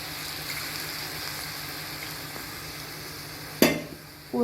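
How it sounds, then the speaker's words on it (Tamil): Water poured into a hot pan of broken wheat (godhumai rava), a sudden loud splashing hiss that rises sharply, tails off into a low sizzle, then returns with a second pour, all over a faint steady frying background. "அதில் வாட்டர் மெஷர் பண்ணி ஊற்றுறேன்."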